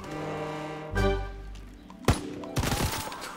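Gunfire in Call of Duty WW2: a heavy low boom near the start, then a sharp crack around the middle and a rapid burst of shots near the end, all loud and close with no talk.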